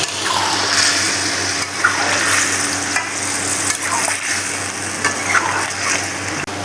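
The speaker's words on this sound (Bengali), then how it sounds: "অল্প অল্প করে এখন গরম জল অ্যাড করব" Hot water poured gradually into a simmering jackfruit and fish-head curry, a steady close-up bubbling sizzle with stirring and faint splashes running continuously, no talking.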